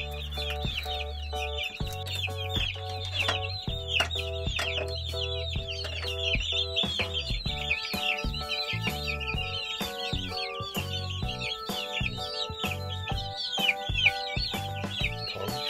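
Hens clucking continuously in a coop where broody hens and chicks are being separated, a dense chorus of close, overlapping clucks and calls with some knocking and handling noises underneath.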